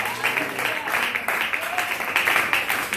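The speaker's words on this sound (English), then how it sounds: "Come on, clap your hands and give him the glory." A church congregation claps hands together during a worship service, a dense steady patter of many hands filling the room with a preacher's voice calling out over it.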